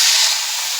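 Water splashed into a hot pan of jaggery powder for flaxseed laddu gives a sharp, loud steamy hiss that fades a little within a second, with no talking.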